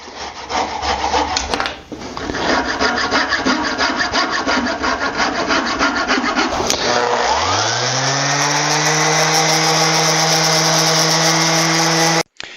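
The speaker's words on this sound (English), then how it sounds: "I'm just going to use a saw." A handsaw rasps steadily back and forth through wood, cutting a turned wooden garden dibble off the lathe; close and loud throughout, with the lathe's whirring hum rising and then running on alongside the strokes.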